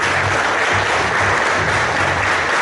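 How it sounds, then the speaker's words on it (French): Steady, dense applause from a crowd fills the whole stretch, loud and continuous with no letup. "Merci, applaudissements pour vous tous."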